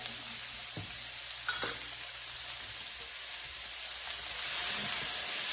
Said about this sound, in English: we're just gonna saute all of that together